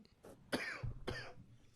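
Two sharp, close coughs into a microphone, a brief throat sound between them, quiet room otherwise.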